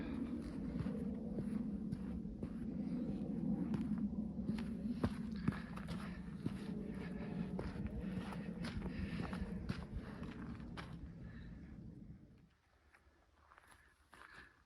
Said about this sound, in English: Just gotta get in here and dig it as far as I can go.